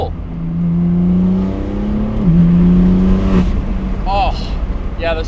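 A BMW M4 with an upgraded exhaust idles and blips with a rumbling drone and a pitch dip, then gives a couple of short popping cracks near the end, heard close-up.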